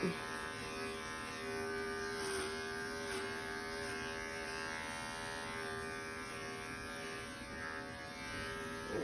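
Electric hair clippers buzz steadily through a short men's fade haircut, a continuous close motor drone with harmonic hum and no talking.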